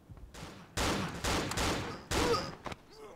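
Gunfire in the horror game Cry of Fear, a few heavy bursts of shots in quick succession, loud and close, with short gaps between volleys and no talk.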